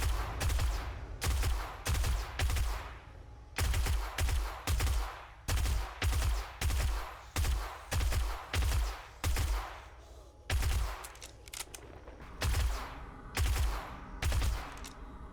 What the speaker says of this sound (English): that copper's still shooting at me